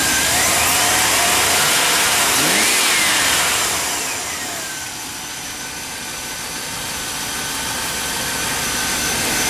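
Chevrolet Tahoe engine running after a repair with a redone radiator and new heater core, revving up steadily then easing back to a smooth, even hum, close and loud with no talking.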